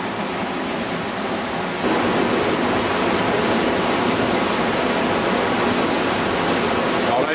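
Rushing water fills a river gorge at the Gorges de la Fou, a steady broadband roar that swells louder after the first couple of seconds and stays constant and close.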